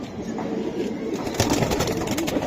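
Giribaz pigeons at a market sale, soft low cooing repeated near and far over a dense murmur of birds and people talking in the background.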